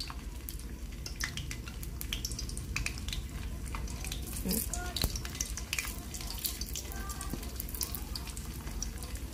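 Steady crackling sizzle of food frying in a pan, with occasional clinks of a utensil against the pan throughout.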